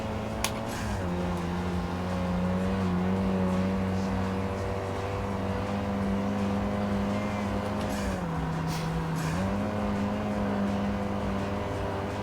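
A steady, droning car engine in the racing game Street Racing Syndicate hums throughout, its pitch dipping and rising briefly as gears shift, with faint clicks over it.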